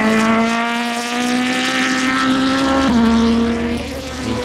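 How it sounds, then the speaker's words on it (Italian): DTM race car engines roar steadily at high revs, a loud continuous whine with pitch shifts as cars pass along the track. "Voi lo sentite questo rumore di DTM che girano?"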